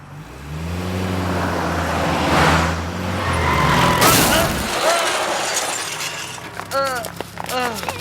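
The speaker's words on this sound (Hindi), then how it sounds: "ये गाड़ी वाला उड़ा के चला गया।" A car engine hums steadily before a loud crash with shattering glass and breaking debris as the vehicle hits a man in an action movie scene, followed by rumbling traffic noise and scattered scraping.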